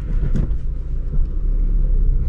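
A 9th-generation Honda Civic Si fitted with a Ktuner v2 pulls through a shift from first to second gear, a loud, close, low engine rumble that holds steady across the short span.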